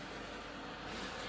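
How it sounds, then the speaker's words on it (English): A heater runs in a shed on a cold day, giving a steady, broad whooshing hum that holds evenly throughout without breaks. "so I actually have the heater going in the shed"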